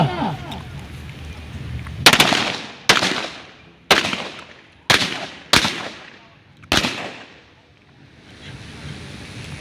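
Single loud gunshots at an outdoor police shooting practice for highway patrol officers in Aceh, about six sharp cracks spaced roughly a second apart, each trailing off in a long echoing decay over steady background noise.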